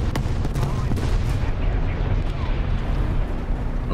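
Tank cannon fire in a tank video game, a heavy booming blast amid continuous rumbling battle noise and engine drone, loud and dense throughout.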